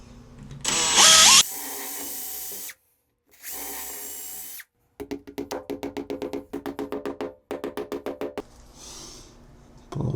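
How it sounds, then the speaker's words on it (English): A power drill fitted with a tile bit bores through tile on a tub surround, with loud sustained whines broken by pauses, then a run of rapid pulsing bursts as the bit works, alone without talk. "we're gonna drill with a tile bit."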